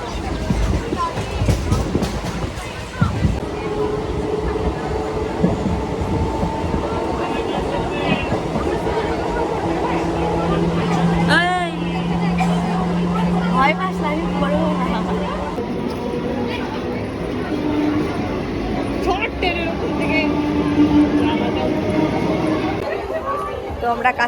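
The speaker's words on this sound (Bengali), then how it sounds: "এখন আমরা ট্রেনে উঠে পড়েছি। এখন যাব কাঁচরাপাড়া, সীমান্ত লোকাল ধরেছি।" Inside a moving Simanta local passenger train in West Bengal heading to Kanchrapara, with a loud steady rumble and rattle of the carriage, a brief horn-like tone, and people talking and chattering close by throughout.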